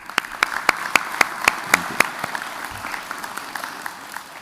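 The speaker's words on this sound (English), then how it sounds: "Please give a large round of applause for all the family and friends" Sparse applause from a small group at a police academy graduation ceremony, a dozen or so distinct claps ringing out clearly, then thinning into scattered, fading claps.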